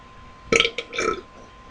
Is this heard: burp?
yes